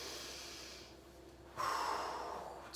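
Heavy breathing from someone holding a plank during a home workout: a long, audible exhale, a pause, then a forceful breath in and out, close and quiet.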